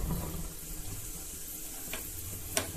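Mustard seeds and chana dal splutter in hot oil: a steady close hiss with a couple of faint crackling pops near the end, and no talking.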